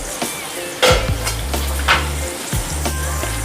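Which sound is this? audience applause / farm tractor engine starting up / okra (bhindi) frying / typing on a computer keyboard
okra (bhindi) frying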